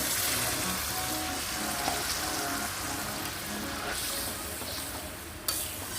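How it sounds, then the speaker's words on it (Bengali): Water poured into spiced kakrol (spiny gourd) curry frying in oil, after the masala has cooked down: a steady loud sizzle that holds throughout, with a sharper hiss surging near the end. "এই পর্যায়ে আমি দিয়ে দেব পরিমাণ মতন জল"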